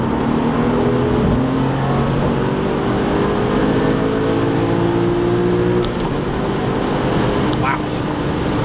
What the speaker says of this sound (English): Now that's some pretty fierce acceleration, to say the least.